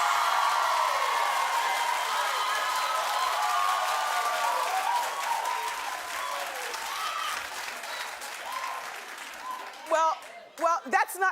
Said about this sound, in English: If you don't want Nicki there, clap